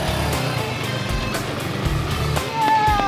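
A motorcycle engine revs up briefly as the rider touches the accelerator, a loud close rising tone near the end over steady engine noise in an open field.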